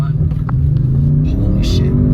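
An Audi RS6 Avant is launched hard from a standstill, its engine note climbing in a rising, loud rumble heard from inside the cabin. Steady road and drivetrain noise fill the clip.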